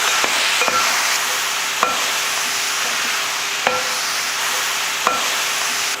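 Steady sizzling of country chicken frying in a pan, with a few sharp scrapes and knocks of a utensil stirring at irregular intervals.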